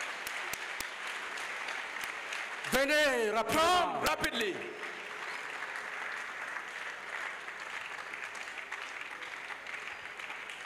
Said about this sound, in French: Acclamez plus fort. Clap and much louder.